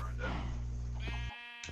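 A Minecraft sheep gives a short, nasal bleat, heard close and clear alongside talking.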